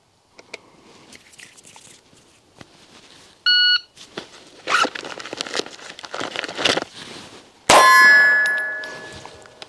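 A shot timer beep, a few faint clicks and rustles, then a loud metallic clang of a pistol round striking a steel target at seven yards, ringing out afterward.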